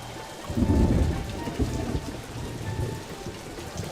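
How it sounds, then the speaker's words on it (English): Steady rain pours down in a Blade Runner video game while a low rumble of thunder rolls through near the start, then fades into continuous rainfall. "As always, raining."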